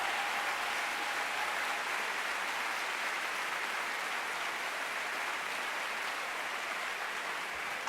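Sustained audience applause at a talk featuring Angela Davis, a steady, even roar of many hands clapping from a large crowd, unbroken and without speech throughout.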